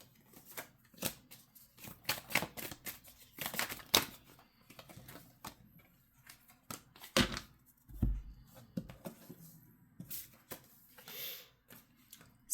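Tarot cards being shuffled and drawn, giving a run of crisp flicks, slaps and riffles in short bursts, close and fairly quiet, with no talking.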